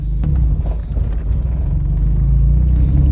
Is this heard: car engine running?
yes